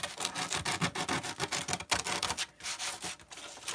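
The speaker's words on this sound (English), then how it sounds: "this is pretty good sandpaper" Sandpaper is handled and rubbed, making quick rhythmic scratchy rustles in close, fairly faint bursts, with no talk.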